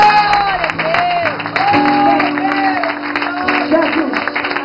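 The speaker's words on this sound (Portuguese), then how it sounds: "Quantos podem aplaudir?" A church congregation claps and cheers throughout a worship service, with steady applause running under a preacher's voice and sustained musical tones.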